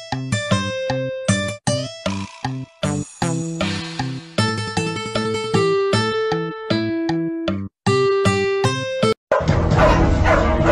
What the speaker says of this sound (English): Yo, Spunky, what are you doing, dog?